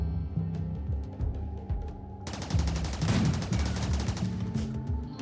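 Colonists shooting in the video game RimWorld: rapid bursts of gunfire crackle over looping game music, dense and steady for several seconds.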